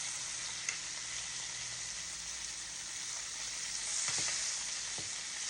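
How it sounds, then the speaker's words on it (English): Pork chops sizzling and crackling steadily in a pan of melting butter, a dense continuous fry with a few soft knocks as the chops are turned. "While the butter is melting, we're gonna go ahead and turn these pork chops."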